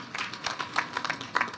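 More applause at Mzee Jackson Kibor's funeral send-off: dense, uneven clapping from a gathered crowd, rising in a few louder bursts and continuing throughout.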